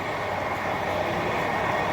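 A Mumbai Metro Aqua Line-3 train runs through its underground tunnel with a steady, dense, unbroken rumble and hiss, loud and close, no speech.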